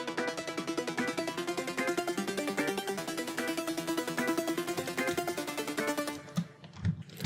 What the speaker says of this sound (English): So now those offbeat guitar sounds mixed with the ARP sound like this.